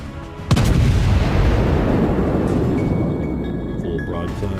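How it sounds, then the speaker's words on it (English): A Bismarck battleship lets off a full eight-gun broadside in World of Warships, one huge booming blast that rumbles and decays over several seconds, loud and close. "Full broadside. 8 rounds."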